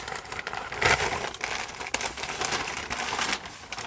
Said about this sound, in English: I'm just ripping out pieces.